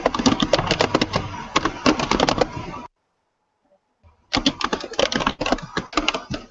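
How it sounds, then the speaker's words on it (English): Rapid clicking of a computer keyboard being typed on, close and clear, stopping for a silent gap of over a second before resuming. "I think, Mace, when you're typing, you have to mute your keyboard"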